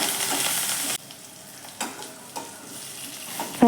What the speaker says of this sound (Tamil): நல்லா வெங்காயமும் பூண்டும் வதங்குற அளவுக்கு வதக்கிக்கணும்